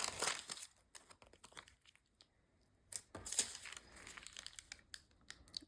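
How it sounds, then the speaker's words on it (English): Parchment paper is handled and crinkled during a craft project, giving soft, close crackling and rustling in short bursts separated by quiet pauses. "me grab parchment paper."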